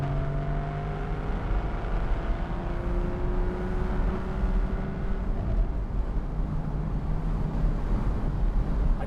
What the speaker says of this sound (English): This gear change is an absolute pleasure.